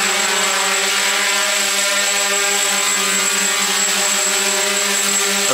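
Motors of a multirotor drone with a DJI Naza flight controller throttle up in a loud, constant whine with steady harmonic tones, close and sustained throughout.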